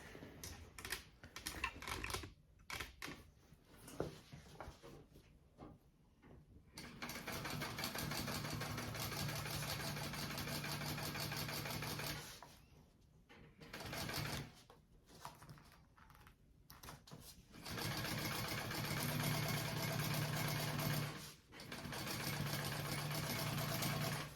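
A sewing machine stitches along the bottom seam of a handbag at a 3/8 seam allowance, running in long steady humming bursts with short pauses between them.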